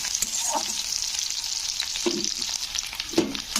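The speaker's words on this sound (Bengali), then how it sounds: "তো ঢেঁড়সগুলো আমার এখানে ভাজা হয়ে গেছে" Okra sizzling steadily as it fries in a pan, a close, continuous hiss broken by a few soft stirring knocks, with no voices.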